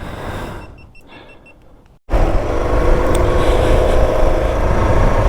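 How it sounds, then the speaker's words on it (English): Motorcycle ridden along an ordinary road with the rider's helmet visor open: steady loud wind and engine roar fill the clip, starting abruptly after a quieter, muffled opening. "this is what it sounds like just going along a normal road with the visor open"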